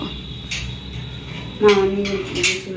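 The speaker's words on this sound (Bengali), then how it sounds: "এই তো খাবার দিচ্ছি" Dishes and cutlery clink and clatter in a home kitchen as rice and food are served, a few sharp close knocks of plates and spoons over a quiet room.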